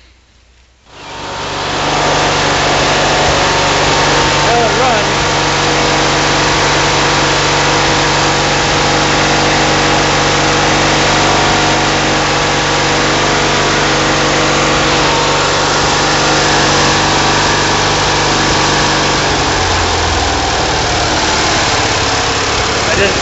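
A Simplicity 5116 Special lawn tractor engine fires up for the first time in years and settles into a steady, loud, buzzing idle that runs on throughout. Voices can be heard faintly now and then over the running engine.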